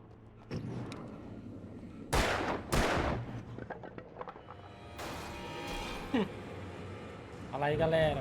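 Gunfire in the video game Alan Wake: a few sharp, loud shots in quick succession amid game effects and rumbling, with scattered impacts and noises following.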